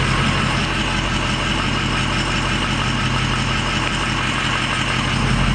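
A lifted Ford F250 pickup on 20-inch wheels, engine droning loud and steady from inside the cab as it pushes slowly through bushes, a constant close rumble with no talking.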